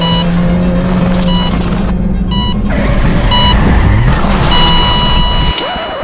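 Car at a demolition-style race event in Georgia, a loud close engine rumble with shifting revving tones, mixed with beeping signals and clattering impacts before the sound cuts off near the end.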